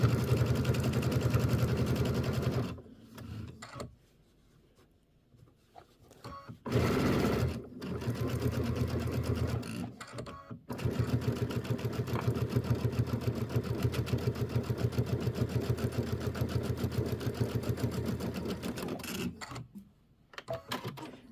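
An embroidery sewing machine stitches out a section of a Kimberbell quilt with a close, rapid, steady mechanical hum and clatter, pausing briefly several times before running on continuously.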